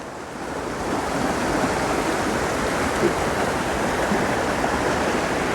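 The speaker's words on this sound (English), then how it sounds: "just look at the flow coming down from the reservoir" A swollen river below a reservoir rushes loudly and continuously, a dense roar of flowing water during a flood after heavy snowmelt, with no voices.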